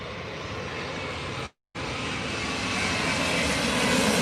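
A large airliner comes in to land at Heathrow Airport, its engines a loud, continuous roar that swells as it nears, with one brief dropout in the sound.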